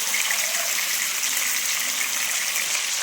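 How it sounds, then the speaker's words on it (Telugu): Raw chicken pieces for a spicy Telangana-style chicken fry hit hot oil in a pan, giving a loud, steady hiss and sizzle throughout. "చికెన్ డైరెక్ట్గా ఆయిల్లో వేసేసుకొని ఇలా ఒకసారి కలిపేసుకోండి."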